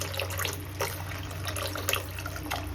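Buttermilk poured into a pan of bohar bhaji leafy greens, a soft, steady liquid pour with faint splashes and small clinks of the pan, low and continuous throughout.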